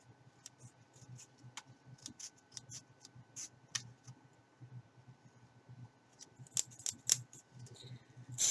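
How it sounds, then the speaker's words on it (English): Hand scissors snip through paper pieces, trimming them to size for a journal, in a quick irregular run of sharp close clicks over a low hum, with no talking. "we're just going to cut these by hand just to cut them down to size"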